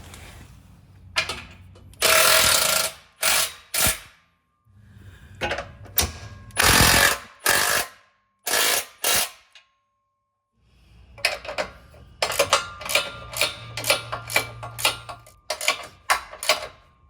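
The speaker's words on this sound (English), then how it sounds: "now it's time to tighten up all the bolts, and I'm going to start with the factory ones." Bolts on frame-mounted rock sliders for a Jeep JL Wrangler Unlimited are tightened with a rapid-fire power tool in repeated loud bursts of rattling hammering, separated by short silent pauses, close up.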